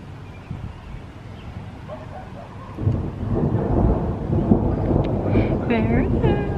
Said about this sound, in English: I hate thunder and lightning.